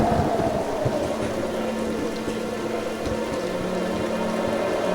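Rain falling outside during a stormy night, a dense steady hiss of drops with a low rumbling undertone, constant and fairly loud, with no voices.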